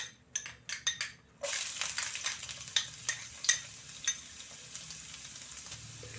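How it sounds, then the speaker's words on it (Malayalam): Ginger and garlic dropped into hot oil for mushroom masala: a few sharp clinks of a utensil, then a sudden sizzle that keeps crackling and fades slightly, broken by stirring taps against the pan. "അതിലേക്ക് നമുക്ക് നമ്മുടെ ഇഞ്ചിയും വെളുത്തുള്ളിയും ഇട്ട് കൊടുക്കാം."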